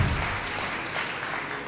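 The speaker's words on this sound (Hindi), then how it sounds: "तालियों के साथ वेलकम नहीं हुआ" Church congregation claps in welcome at a New Year's Eve night prayer service, a short, full burst of applause from many people in a hall.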